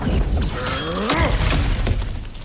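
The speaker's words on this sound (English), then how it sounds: "back to smashing through things for fun and profit." Ground cracking and shattering under a heavy smash in God of War Ragnarok, a loud, dense burst of breaking debris with rumbling impacts that run through most of the moment.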